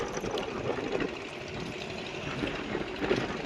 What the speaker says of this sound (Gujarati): મિત્રો એક બોટ આવે છે સર ફિશિંગ ટ્રોલિંગ બોટ છે આ